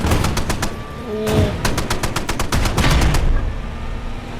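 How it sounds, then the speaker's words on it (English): An M2 machine gun in the WW2 tank game Panzer Elite fires in rapid bursts of sharp cracks, joined by other gunfire and a low battle rumble. The noise stays loud and dense throughout, with no talk. "they've got an M2 firing at us"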